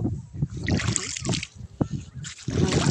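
Seawater splashes and sloshes at Bajura beach in Punta Tarawal, Calabanga, Camarines Sur, in loud, close bursts with trickling between them, and a voice speaks briefly over it.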